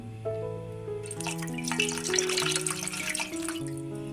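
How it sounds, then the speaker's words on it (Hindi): Water poured into a cooking pot to set up steaming for a mutton leg steam roast, a steady splashing pour of about two and a half seconds under continuous background music. "थोड़ा सा पानी में और डाल देती हूँ।"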